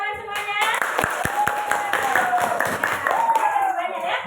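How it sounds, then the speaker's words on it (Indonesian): A class of students claps in a few scattered, uneven bursts while people keep talking over it, the handclaps sharp but sparse and close by. "Ya, tepuk tangan semuanya."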